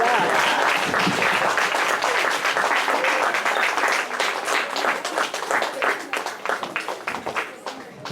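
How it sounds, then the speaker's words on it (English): An audience at a religious summer fellowship gathering applauds loudly and continuously, with dense clapping that gradually thins and softens toward the end. "give him a round of applause"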